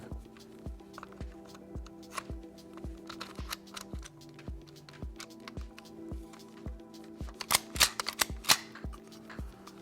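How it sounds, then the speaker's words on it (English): Parts of a Festool DURADRIVE DWC 18 screwgun click together in a run of sharp, evenly spaced clicks, close and crisp, growing busier and louder toward the end with no talking. "You will hear them click back together."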